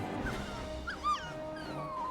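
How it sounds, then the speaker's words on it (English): A puppy in the video game Final Fantasy 16 whimpers with a few short, high, whining yips, the loudest near the middle, set over a faint game soundscape. "Puppy."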